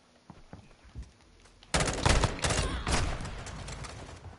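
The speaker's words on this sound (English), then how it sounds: "It's just a burst fire Mark 18, essentially" A Mark 18 rifle fires in burst mode in a first-person shooter game: after a quiet start with a few faint clicks, a loud rapid string of shots erupts and keeps rattling in quick bursts, sharp and close.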